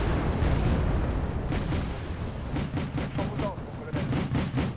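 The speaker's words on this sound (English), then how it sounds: "here my AMX-32 will shoot the enemy from afar" AMX-32 tank firing on the enemy from long range in the strategy game Wargame: AirLand Battle, heard as a run of loud booming shots and blasts amid dense battle noise.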